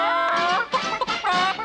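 A person imitates a hen's clucking, with close, loud squawking vocal bursts broken by a few short pauses.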